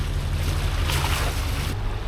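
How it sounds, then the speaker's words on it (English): A sailboat motor sailing on the Greek sea near Poros, with a steady low engine drone beneath broadband wind and water rush that swells briefly near the middle. "So we're just sort of motor sailing."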